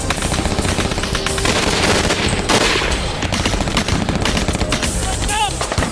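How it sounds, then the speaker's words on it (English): World War II battlefield in North Africa with heavy machine gun fire: dense, continuous rattling bursts of automatic fire over constant loud battle noise, with no clear breaks. "3rd Battalion came under heavy fire from machine guns,"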